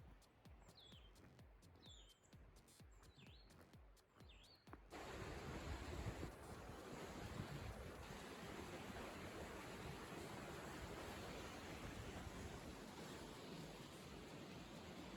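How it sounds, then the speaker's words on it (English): Rushing water of a local mountain river flows steadily and loudly close by, filling the last ten seconds with broadband noise after a quieter stretch of faint bird chirps and ambient sound. "here is some relaxing footage of me collecting water at my local mountain river"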